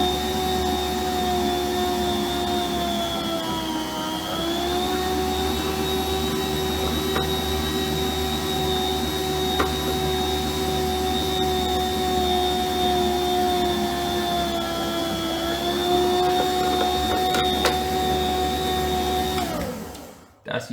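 A Healthy Choice electric food slicer motor whines steadily as it cuts ham, with a sustained droning hum that dips slightly in pitch under load and then winds down at the end.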